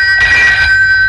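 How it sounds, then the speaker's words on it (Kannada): A telephone in a Kannada comedy film gives one short, loud, bright electronic ring burst that stands alone and close. "ಫೋನ್"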